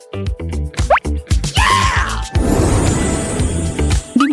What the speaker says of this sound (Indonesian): Dimulai dengan tetesan kecil.